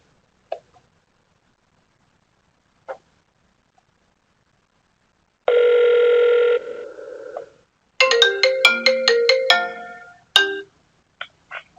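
An outbound call placed from a Grandstream Wave softphone rings through: scattered clicks, then a sustained electronic tone and a rapid series of bright beeping tones, with brief chirps at the end.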